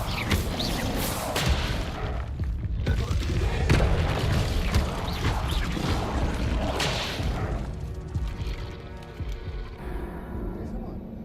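Booming, crashing blasts from the Incendio fire spell in Hogwarts Legacy, loud repeated impacts layered over game music and effects.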